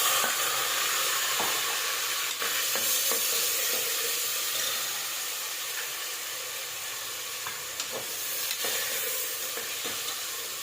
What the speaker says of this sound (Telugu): సో ఫస్ట్ అయితే మనం ఈ విధంగా ఆనియన్ వేసుకొని ఇది మంచిగా ఫ్రై అయ్యాక మళ్ళీ టొమాటో వేసుకుందామండి